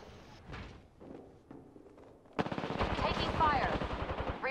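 Rapid automatic gunfire in an Apex Legends match, preceded by softer game sounds and a voice, then a dense burst of close shots with an ascending whine over it.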